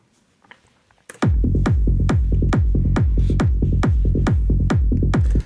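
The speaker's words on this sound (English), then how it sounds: "this is what I mean with a driving, rolling bass line that already sounds good" Driving, rolling techno bass line with punchy kick drum in an FL Studio big room techno track; after a quiet lead-in, steady four-on-the-floor kicks with rapid bass pulses between them, loud and continuous.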